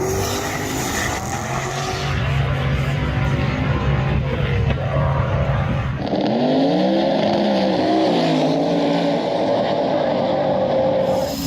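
Race car engine at a Sick Week 2023 drag racing event, a loud droning roar that shifts midway into a rising, revving scream, with crowd and talk mixed underneath.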